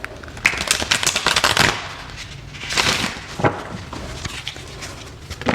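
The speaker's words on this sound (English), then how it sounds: "Let me just shuffle one more time." A tarot deck being shuffled by hand: close, crisp bursts of riffling and flicking cards, in several quick rounds separated by short pauses, with no talking.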